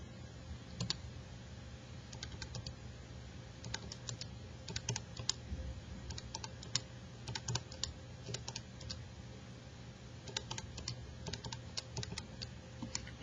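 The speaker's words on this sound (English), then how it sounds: "we type in our X values" Steady patter of small plastic key presses as values are keyed into a graphing calculator, many light taps in irregular runs over a faint hum, close up with no talking.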